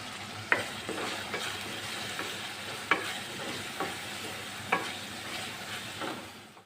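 Chopped tomatoes with salt cooking in a pan, a steady soft sizzle with a few sharp clicks of a spoon stirring against the pan at regular intervals.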